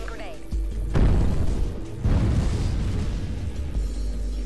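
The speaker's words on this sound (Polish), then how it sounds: "Wow, coś tam wybuchło i tego anihilowało zupełnie." Explosions in the sci-fi shooter game USC: Counterforce, with a reactor detonating: two heavy booming blasts land about a second apart, each followed by a dense rumbling roar that stays loud through the rest of the moment.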